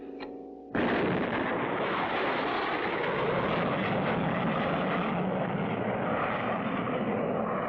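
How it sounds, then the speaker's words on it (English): A cartoon rocket blasts off with a sudden loud roar after a brief lead-in, then a sustained, dense rumbling rush that holds steady to the end, with no voices. "Our first successful attempt to really get a rocket off the ground."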